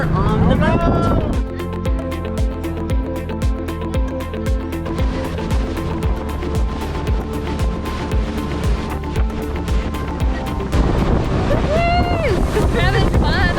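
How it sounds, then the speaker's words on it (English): Water taxi running out to Yelapa near Puerto Vallarta: a loud, steady engine drone with wind buffeting the microphone and rushing water, continuous throughout, with voices briefly heard at the start and end. "Here we are on our way to Yelapa on the water taxi."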